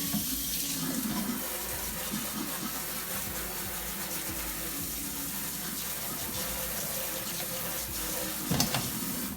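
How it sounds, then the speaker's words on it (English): Tap water runs steadily into a sink while a blender is rinsed during sweet potato pie preparation, a constant close gushing flow with a brief splash near the end and no talking. "Now I'm gonna rinse off these strings real quick."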